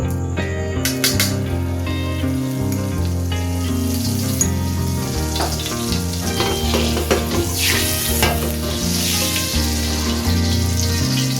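Sunflower oil and butter sizzle steadily in a hot pan, a loud continuous crackle close up with occasional clinks, no talk.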